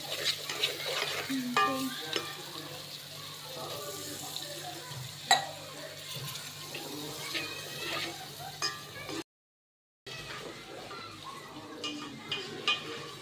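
Quiet sizzling and stirring of spices in a pan, with soft scraping and occasional clinks, and a brief dropout near the end.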